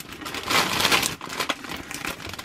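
Plastic bags from a Sembo building set being unpacked, with close, irregular crinkling and rustling bursts in quick succession, loudest in the first second.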